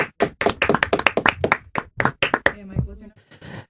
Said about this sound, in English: your clap sounded like somebody taking 2 logs and smacking them together. It was very wooden sounding.